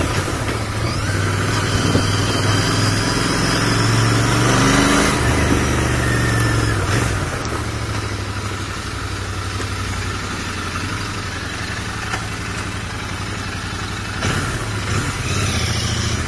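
A motorcycle engine revs briefly, then settles into a steady, close idle with a constant low rumble that holds for the rest of the stretch. No one speaks.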